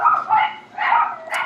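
Several quick dog barks and yips come in a short burst, fairly close and clear, with brief gaps between them.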